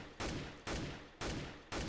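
Gunfire in a shooter video game comes as four loud, evenly spaced bursts of rapid automatic fire, each a dense blast that tails off before the next one starts.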